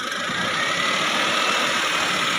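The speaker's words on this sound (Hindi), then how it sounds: "एक बार रेस करो, इंजन रेस करो" A Maruti Suzuki Wagon-R petrol engine runs after a jump start from a portable jump starter, a loud, close, steady drone, held raised for a couple of seconds without speech.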